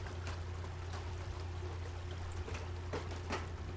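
Water in the video game Obduction flows and trickles steadily under a low hum. The sound is faint and continuous with no talking.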